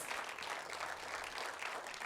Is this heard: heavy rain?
no